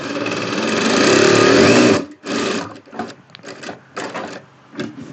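Daisen DS R1 Japanese sewing machine stitching, a steady loud mechanical whir for about two seconds, then several shorter bursts of running with brief pauses between them.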